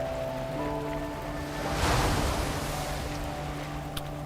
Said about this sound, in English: The sea churns and boils upon hearing the dirge.